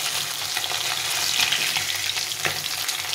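Pabda fish sizzle and crackle steadily in hot oil in a pan, a dense, even frying hiss with occasional sharper pops, close and without talk.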